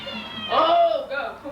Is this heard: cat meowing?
yes